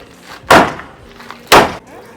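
Two loud, sharp impacts about a second apart from a big hammer striking wood during garage siding installation, with quiet room noise between them.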